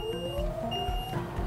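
Steady electronic reversing beep from a small electric microcar, a MOVE CityCar 45 km/h moped car, sounding as one clear tone repeated over a low motor hum and road rumble.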